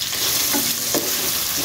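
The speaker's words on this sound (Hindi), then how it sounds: "और प्याज को हम करेंगे ब्राउन।" Chopped onions frying in hot oil, browning for a chicken and vegetable fried rice biryani, giving a loud, dense, steady sizzle up close with a couple of faint stirring scrapes.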